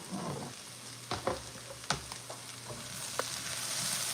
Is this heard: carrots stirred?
yes